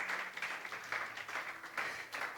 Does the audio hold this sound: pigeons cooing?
no